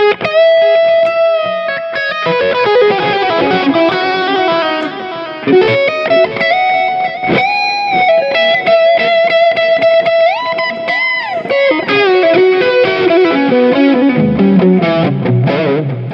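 Distorted electric guitar played through a Mooer Prime P2 multi-effects unit with delay and reverb, sustained overdriven melodic lines and bends ringing with echo tails, loud and continuous with no talking.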